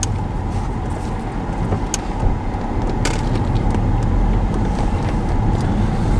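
Car driving slowly along narrow lanes, heard from inside as a steady low engine and road rumble that holds throughout, with no talking.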